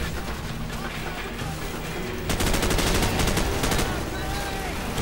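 Assault rifle gunfire in Call of Duty 4, loud continuous automatic bursts that turn denser and harsher midway, with fast rattling shots filling the mix and game battle noise underneath.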